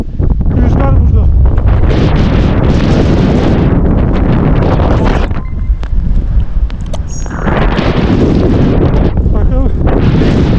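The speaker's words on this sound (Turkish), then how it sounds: "Rüzgarın sesi." Strong, roaring wind on a mountain near 5000 metres buffets the microphone in heavy gusts, loud and continuous, dipping briefly before surging again.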